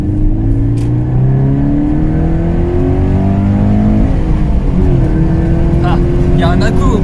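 A 2012 Toyota GT86 coupe with a 2.0-litre four-cylinder boxer engine under way, revs climbing and dropping through gear changes in sweeping tones, with a voice talking faintly over the cabin drone.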